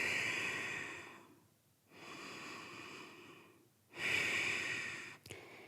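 Slow, deep breaths during a yoga exercise: two long airy inhales or exhales separated by quiet pauses, then a third stronger breath, close and clear with no talking.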